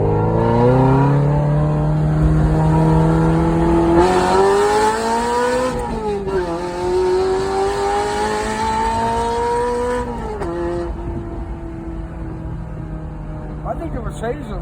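A 1989 Ferrari 348ts with its 36-year-old engine winding up, a loud, close engine note whose pitch climbs in steady sweeps, dips, then rises again, sustained throughout.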